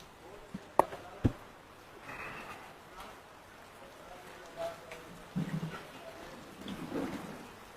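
Steady, soft rain falls outdoors, with a few sharp knocks early on and faint scattered sounds over the patter. No clear thunder stands out.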